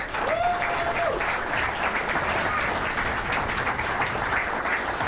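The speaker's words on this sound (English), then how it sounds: "give that good round of virtual applause and in-house applause for the speakers" An audience at a Teamfight Tactics gaming event applauds the speakers with sustained clapping, loud and even throughout, and a brief whistle near the start.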